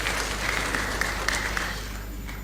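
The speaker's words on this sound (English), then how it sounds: "Please let's give them a round of applause." Audience applause at a national economic dialogue in Liberia, a steady wash of clapping with a few sharper claps standing out, holding even and then easing slightly toward the end.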